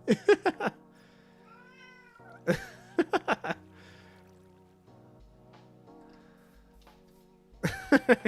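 Bear, a pet cat, gives loud, close, insistent meows in short bursts of three or four calls, separated by quieter stretches of soft background tones.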